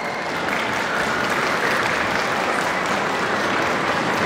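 An audience applauds steadily at a PetExpo breed demonstration, a dense, even wash of clapping that holds for the whole stretch without talk.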